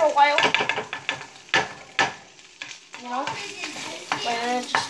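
Food frying in a pan while a utensil stirs and scrapes it in busy, irregular bursts, with sizzling underneath. Close and fairly loud, and a voice speaks in short stretches over it.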